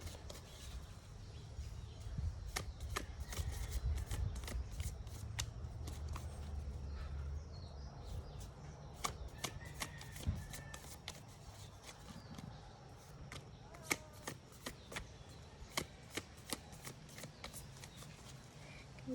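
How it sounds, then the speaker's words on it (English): Quiet, repeated crisp snaps and riffles of a deck of cards being shuffled, irregular bursts over a soft background hum. "I know I'm not good at shuffling these yet,"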